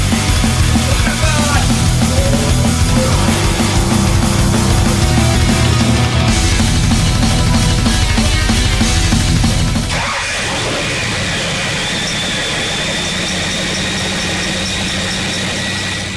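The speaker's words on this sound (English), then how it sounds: "Real test is going to be starting the engine." A 1988 GT car engine, just fitted with a newly installed part, runs at a steady, loud idle with a dense low rumble and mechanical clatter, its tone shifting partway through to a lighter, smoother idle.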